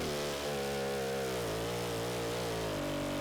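A Stihl 090 chainsaw fitted with a mill attachment runs steadily on its throttle lock, a loud, continuous engine drone with a slight dip in pitch partway through, close up and alone.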